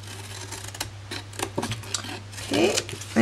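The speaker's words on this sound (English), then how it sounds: "And then we're just going to notch out our end flaps and just roughly cut them in half." Scissors notching and cutting cardstock end flaps of a large paper gift bag: a few short, uneven snips and crisp rustles of card spread across the moment, fairly close, with a low steady hum underneath.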